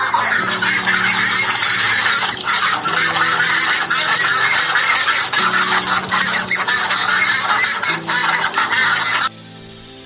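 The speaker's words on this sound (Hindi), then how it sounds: "This is a duck." A duck calls with a run of loud, close, honking quacks repeated in quick bursts, then breaks off abruptly near the end.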